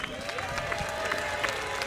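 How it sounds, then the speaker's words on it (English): A crowd at the 2023 World's Strongest Man award presentation claps and cheers for Quinny, with dense, steady applause and scattered shouts filling the whole moment. "Let's have a cheer for Quinny!"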